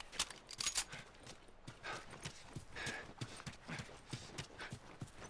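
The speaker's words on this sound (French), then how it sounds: "Viens, on file aux chevaux." Horses gallop in the video game The Last of Us, their hooves clip-clopping in quick uneven clusters, close and crisp, with faint game ambience behind.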